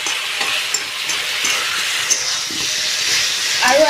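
Masala frying in hot oil in a pan gives a steady, loud, close sizzle and hiss throughout, with a brief sharper crackle near the end.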